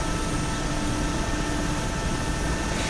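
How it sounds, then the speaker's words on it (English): Mil Mi-8 helicopter in flight, heard from inside the cabin as a steady, loud, dense engine and rotor roar with a low throbbing hum, constant throughout with no talk. "basically we're flying now on the Mi-8 helicopter."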